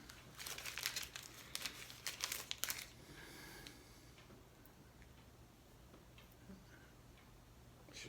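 Crinkling and rustling as packaging for an Alcatel LinkZone 2 hotspot is opened, with close, brittle crackles and small ticks in a busy burst. The handling then tapers into faint, sparse rustles over a quiet low hum.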